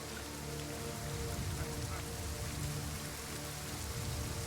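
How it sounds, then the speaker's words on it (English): Steady rain falling in Total War: Pharaoh, a dense continuous hiss of drops on surfaces at an even level with no breaks, faint and without talking. "Start from a storm and just drop into normal rain."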